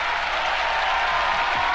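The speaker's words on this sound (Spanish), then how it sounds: "ovación cerrada, por favor, ovación cerrada, qué maravilla" An audience at the Grand Prix TVE television show gives a sustained ovation, a dense, loud wash of clapping from a large crowd that fills the whole moment without a break.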